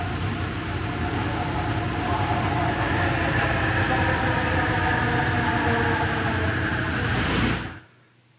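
The JFK AirTrain rumbles steadily along the rails with a low, continuous drone, then the sound drops away sharply near the end.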